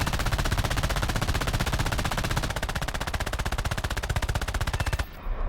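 Rapid, continuous machine gun fire from the defensive guns of a Ki-21-I-Hei bomber in War Thunder, a loud, even stream of closely spaced shots that runs for about five seconds before abruptly stopping.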